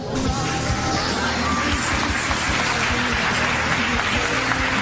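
A church congregation applauding during an evening service, a dense, steady wall of clapping and crowd noise that fills the room without a break.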